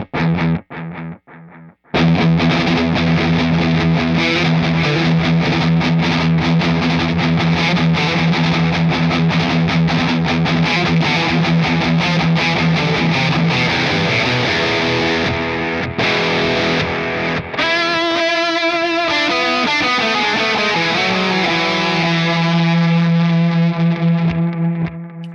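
High-gain electric guitar through a Mesa Dual Rectifier amp with a Boss NS-2 noise suppressor and delay, sustained distorted chords ringing loud and continuous, with a brief break and a shifting passage near the end, no talking.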